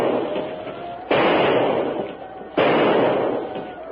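Two sharp, loud shots ring out about a second and a half apart at a crocodile, each followed by a long echoing rumble.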